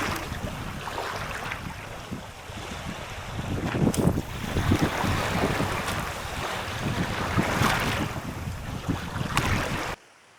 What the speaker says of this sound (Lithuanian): tas šoninis vėjas tai trumpina gerai reikalus